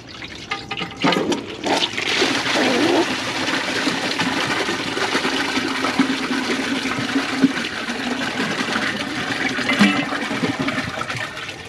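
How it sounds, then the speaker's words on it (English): A 2015 Kohler Wellworth toilet with a Class 5 Portrait Lite tank flushes loudly, a sharp rush of water settling into a long, steady gushing and refilling flow, close up with no talk. "Flush 4."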